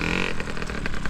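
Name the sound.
motocross bike engine revving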